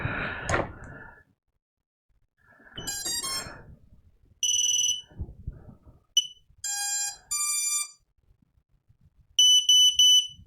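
Startup beeps from an Armattan Chameleon FPV drone's electronics: a short sequence of high electronic beeps and chirping tones, some steady and some warbling, separated by gaps and low handling noise, close and fairly loud.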